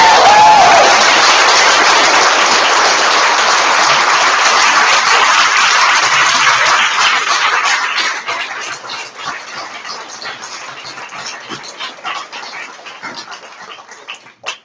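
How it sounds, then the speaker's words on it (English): At a pitch night for a packaging challenge, the whole audience breaks into loud, dense applause that holds steady for several seconds, then thins out into scattered, fading individual claps. "one more big round of applause to all of you"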